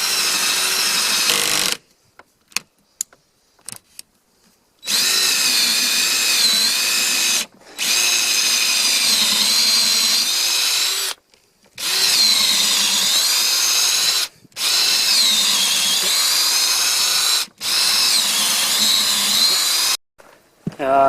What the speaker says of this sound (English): the battery ran out while I was drilling this